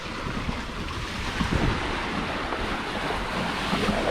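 At sea aboard the sailboat Ravenswing heading south from Puerto Peñasco, a 10 to 12 knot wind raising whitecaps gives a constant rush of wind and breaking waves, loud and steady with no talk.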